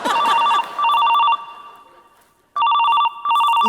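A telephone ringtone trills in loud repeated electronic bursts, pausing for about a second before ringing again, with no talk over it, during a stage comedy sketch.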